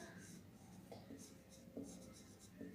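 A pen scratches across paper while working through a grade 9 math problem, faint soft strokes in short bursts with faint vocal sounds underneath.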